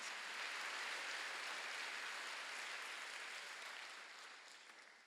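A church congregation at a Wednesday worship service applauds, a soft, distant and even wash of many hands that slowly fades away.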